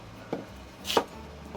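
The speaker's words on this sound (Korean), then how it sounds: "사선으로 잘라주시는 게 조금 더 자연스러운 모습에 가깝죠." Sweet potato sliced diagonally with a knife on a board, two quiet cuts, the second sharper, close up and alone.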